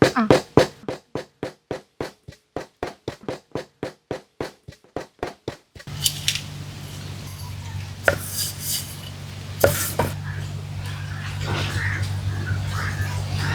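Green chili and ginger chopped on a board for a traditional Braal recipe, a fast even run of sharp knife knocks up close, followed by a noisier stretch of kitchen clatter and a low hum.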